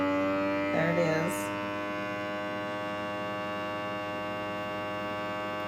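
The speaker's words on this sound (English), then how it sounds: "Vacuum seal." A vacuum sealer runs with a steady electric hum that holds evenly across the clip, and a voice speaks briefly near the start.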